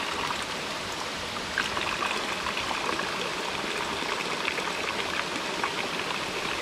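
Water from a natural spring at a farm near a waterfall flows in a steady, close rushing babble, trickling and splashing continuously with no voices.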